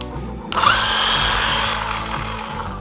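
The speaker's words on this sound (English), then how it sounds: "we polished it out, we reapplied, and that hot spot is gone" Power polisher buffing ceramic coating on a 2024 Mini Cooper Clubman, a steady close whine that starts abruptly and holds loud without any voices.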